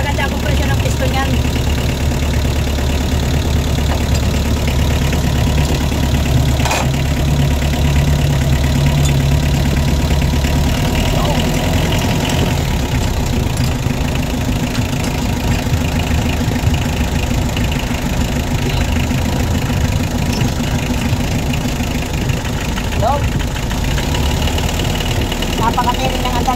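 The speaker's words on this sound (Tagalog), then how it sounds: "Sariwa pa makina nito. Ganda ng andar niya." A car engine idles after cylinder head work, running steady and close with a loud continuous low rumble and slight knock, while someone talks over it now and then.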